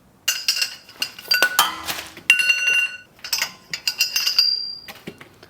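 A 17mm wrench works loose four bolts behind a wheel hub, giving close metallic clinks and ratcheting clatter in irregular bursts with short pauses, sharp ringing taps standing out, and no talking.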